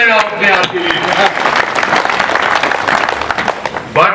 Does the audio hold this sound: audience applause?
yes